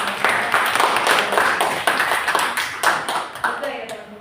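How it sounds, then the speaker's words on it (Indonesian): Audience applause at the close of a school law debate round in Makassar, a dense spread of hand claps sustained for several seconds with slight fade, close and fairly loud. "Mari kita beri tepuk tangan."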